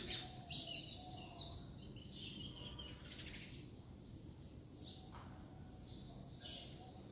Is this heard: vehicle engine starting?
no